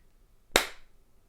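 One sharp, single hand clap in a quiet room, close and crisp, with a short decay afterward and no talk.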